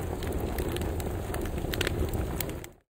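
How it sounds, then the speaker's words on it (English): A steady fireplace ambience from a HomePod mini smart speaker, soft crackles and occasional sharp pops over a low hiss, moderately quiet, fading out abruptly at the end. "Choices include fireplace,"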